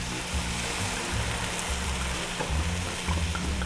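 A full bottle of red wine poured into a small hot frying pan for deglazing, a loud, continuous hissing sizzle with bubbling beneath, steady throughout.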